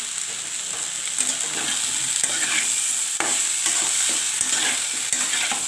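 Cauliflower, potato and egg curry sautéed in a pan, with a steady close sizzle of frying and intermittent scraping stirs of a spatula throughout.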